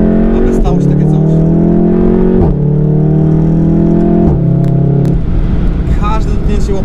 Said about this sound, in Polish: W trybie race momentalnie redukuje się nam bieg, słyszymy wydech, tylko wystarczy muśnięcie gazu